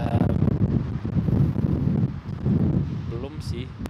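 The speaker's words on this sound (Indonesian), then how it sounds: "anginnya kenceng banget, coy." Strong outdoor wind buffets the microphone in a loud, continuous low rumble with gusty surges, and voices are heard talking over it.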